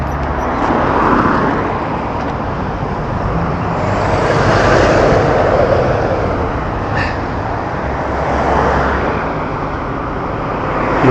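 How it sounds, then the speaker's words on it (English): Fast traffic on a road near Grendon, cars travelling around 100 mph sweeping past in loud, broad whooshing waves one after another, with wind buffeting close by. "cars are doing about 100 miles an hour"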